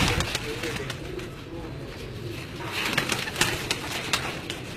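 Pigeons in a fancier's loft coo in low, murmuring bursts over a steady background of bird chatter, with occasional faint wing flaps and a voice faintly in the mix.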